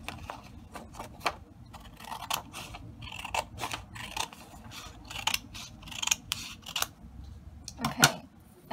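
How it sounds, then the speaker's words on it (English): Scissors trim the excess off a sheet of white origami paper in a string of crisp, close, irregular snips against a quiet room. "and cut the excess part off"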